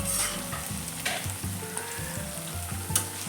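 Masala with crushed green chilli thecha roasting in a pan for Khandeshi eggplant bharit, a steady close sizzle with rhythmic scraping stirs, no voices.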